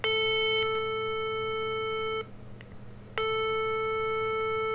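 Telephone ringback tone heard while calling someone, two long steady electronic tones separated by about a second of quiet, over a low background hum.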